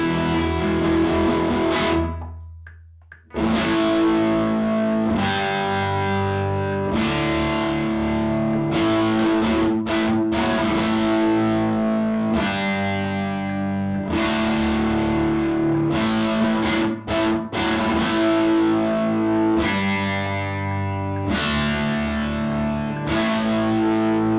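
Distorted electric guitar with a humbucker pickup played through a BV25 amplifier in a recording studio, sustained chords ringing steadily with a brief drop near the start, loud and continuous.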